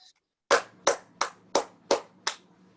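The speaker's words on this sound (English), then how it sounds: "Let's give him a big round of applause" Six separate hand claps, evenly spaced and sharp, close and fairly quiet, given as a small round of applause for a class winner in a virtual class, with no talk over them.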